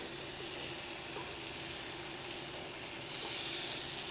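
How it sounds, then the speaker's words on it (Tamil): Baby corn sizzles in a hot pan, a steady close frying hiss that swells slightly near the end, with no talking. "இப்போ இது கூட அந்த பேன் இப்படி வச்சோன்னா அந்த சவுண்டு கேட்குது பாருங்க"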